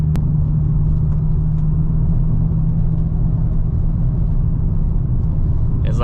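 Subaru WRX VB on a mountain road during spirited driving, its engine giving a steady low rumble and drone heard from inside the cabin, close and continuous.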